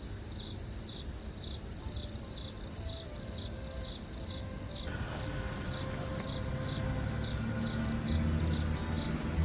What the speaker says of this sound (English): the only sounds are cicadas and leaves in the wind